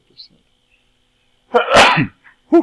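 One sharp, loud sneeze bursts out close by after a brief pause, followed by a short spoken exclamation.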